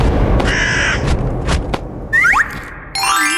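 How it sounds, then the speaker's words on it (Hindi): A crow caws in short bursts amid a busy cartoon soundtrack, with sliding whistle-like tones and a springy boing near the end; the calls are fairly close and clear. "ये खाना तो कौवा भी नहीं खा रहा है।"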